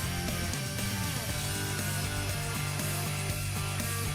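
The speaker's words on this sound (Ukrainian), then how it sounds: "Як ви бачите, шуруповерт навіть з таким гігантським шурупом дуже легко справляється" A Metabo PowerMaxx BS cordless drill drives a giant screw into a pine log, a loud steady motor whine with a strained, grinding texture and a slight pitch wobble as the screw bites into the wood.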